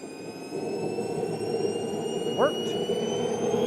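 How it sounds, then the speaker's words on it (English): A BVM Super Bandit model jet engine spools up during a start attempt with a steady turbine whine and airy hiss, a brief rising squeal cutting through near the end. "Still have air going into the engine."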